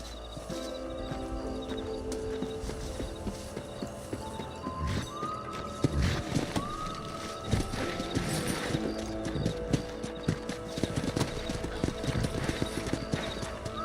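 Horse hooves clip-clop at a steady gallop in the Western video game Red Dead Redemption, loud and continuous for the whole stretch, with a neigh rising partway through over a busy game soundtrack.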